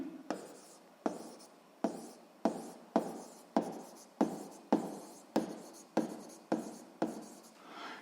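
Pen or chalk writing a physics formula for the momentum of a body, about a dozen sharp strokes repeating roughly every 0.7 seconds, close and fairly quiet, each tap followed by a brief scratchy trail.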